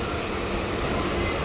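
Loud, steady rumble and rattle from inside a moving suburban local train out of Bhayandar station in Mumbai, a continuous roar with no voices.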